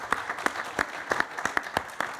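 Applause from a conference audience at a talk on corporate social responsibility in times of crisis, a moderate patter of separate claps with a few sharper spikes, fairly close and steady, with no voices over it.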